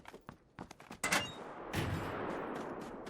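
Gunfire from the video game PUBG starts as scattered sharp single shots, then builds into a heavier volley and a sustained roar of firing that carries on to the end, with no talk over it.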